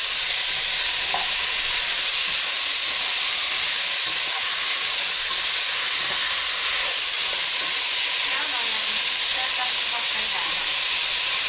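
Steady, close sizzling hiss of food frying in a pan, continuous throughout with faint stirring scrapes and no talking.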